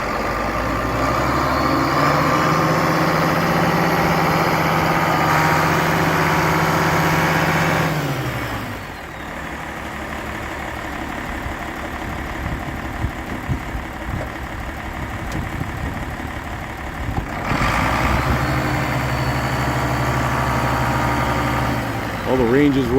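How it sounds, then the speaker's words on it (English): An International Harvester 1086 turbo diesel tractor with a cab idles steadily nearby, a low, even engine rumble that dips briefly partway through and then resumes, with no speech over it. "tractor starts and runs good. Turbocharged tractor."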